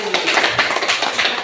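Audience at a school presentation session claps briefly, a close, loud burst of quick hand claps lasting about a second and a half.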